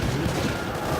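Dense gunfire from the Left 4 Dead 2 video game, a continuous loud burst of shots filling the whole moment with no talk over it.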